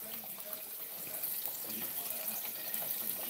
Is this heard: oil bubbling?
yes